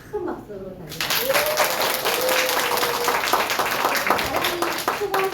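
An audience bursts into sustained applause after a nutrition product training lecture, dense clapping that starts abruptly and carries on for several seconds while a voice speaks over it.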